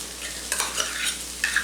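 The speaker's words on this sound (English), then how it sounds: "in a bowl mix in the sour cream" Spoon stirring sour cream and mayonnaise together in a bowl for a John Wayne casserole, soft scraping strokes in a short uneven rhythm, close and quiet, with no voices.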